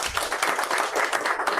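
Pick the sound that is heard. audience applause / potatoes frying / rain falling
audience applause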